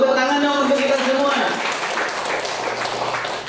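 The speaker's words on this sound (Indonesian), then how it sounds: "Kalau gitu tepuk tangan dong untuk kita semua" Group at a Qur'an reading training session applauding together, a burst of clapping that starts over a voice and then thins into scattered claps.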